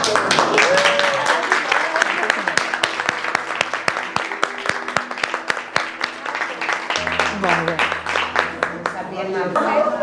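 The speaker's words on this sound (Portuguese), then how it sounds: "Uma salva de palmas para Antônio." Applause for a speaker at a meeting: a small group claps steadily and crisply for several seconds, with a voice talking over the clapping toward the end.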